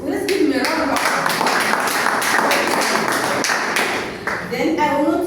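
Audience clapping at a Toastmasters club meeting, a dense sustained round of applause lasting several seconds, fairly loud and steady with brief dips, voices faintly mixed in.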